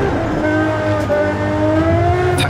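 The 2022 GMA T.50 supercar in Forza Horizon 5 hums with a steady, strongly tonal engine note that holds constant at close range, with no voices present.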